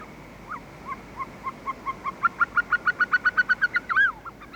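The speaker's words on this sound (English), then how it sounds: "Caucasian snowcocks." Caucasian snowcocks calling from stony mountain crags at the vegetation line: a series of clear, rising whistled notes that start sparse and quicken into a loud, rhythmic run of a dozen or more evenly spaced calls before ending in a final flourish.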